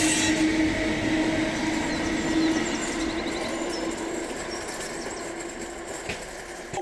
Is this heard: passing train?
yes